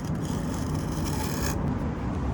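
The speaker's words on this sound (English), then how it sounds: "So I'm gonna run my edger along here." Steel concrete edger run along the edge of a freshly poured slab, giving a steady gritty rasping scrape that continues for about a second and a half and then tapers off.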